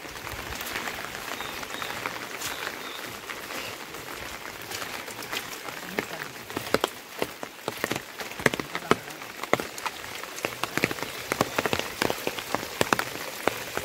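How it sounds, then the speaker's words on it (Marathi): Irrigation water channelled into a paddy field in Sindhudurg, Konkan, spattering in a dense, crackling patter of drops that grows sharper and more irregular toward the end. "इकडनं पाणी जाता डायरेक्ट मळ्यात."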